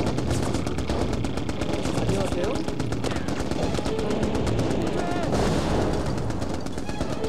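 Sustained automatic gunfire and explosions from the Mercenaries: Playground of Destruction video game, dense and continuous throughout, with a voice speaking briefly over the battle noise.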